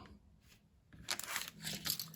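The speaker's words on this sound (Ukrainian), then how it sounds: "Інструкція і деталі запаковані в один такий герметичний пакет, який я зараз за кадром відкрию" A sealed plastic bag holding a scale model kit's instructions and parts is torn open, giving a close, quiet burst of tearing and crinkling that grows louder in the second half.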